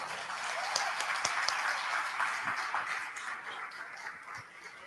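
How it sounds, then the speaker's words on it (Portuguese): Applause from a church congregation at a Sunday service in Araruama, moderately loud steady clapping with a few sharper individual claps, slowly tapering toward the end. "Você pode dar um aplauso ao Senhor?"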